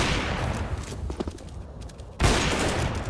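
Sniper rifle fire from an AWP in a Counter-Strike match, loud game gunshots that cut in and out over dense broadband game noise, with a sharp fresh burst near the end.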